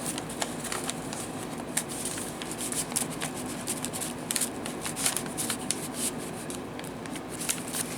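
Paper scraps are shuffled and rubbed by hand while assembling a junk journal, giving soft, close rustling with scattered crisp ticks and flicks.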